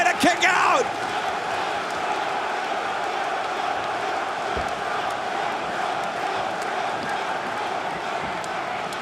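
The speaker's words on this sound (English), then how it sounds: "The crowd exploding in Lowell." A packed wrestling crowd at a Ring of Honor show in Lowell roars loudly and steadily, a dense sustained wall of cheering that swells briefly at the start and holds throughout.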